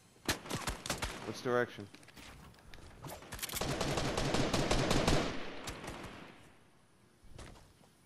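Rapid video-game gunfire crackles in close bursts, swelling into a sustained automatic volley before trailing off into scattered shots, while a player talks over it.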